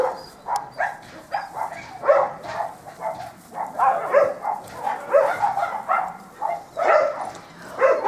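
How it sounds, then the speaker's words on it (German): A lively, spirited dog barks repeatedly in quick yapping bursts mixed with whining whimpers, close and fairly loud, the calls tumbling over one another almost without pause. "Temperamentvoller Hund, der aber trotz und alledem sehr aufmerksam ist."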